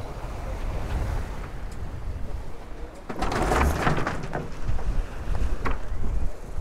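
A Lagoon catamaran with an extra-large square-top mainsail jibes under sail, with steady wind rush and water noise and a louder surge of flapping, buffeting sail and wind midway.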